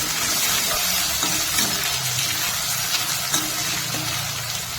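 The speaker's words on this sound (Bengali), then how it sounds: "কড়াই বসিয়ে দিয়েছি, কড়াইয়ে সরষের তেল দিয়ে দিচ্ছি পেঁয়াজ কুচি" Chopped onion sizzles in hot mustard oil in a kadai, a steady dense frying hiss that stays loud and close throughout, with faint clinks and stirring underneath and no talk.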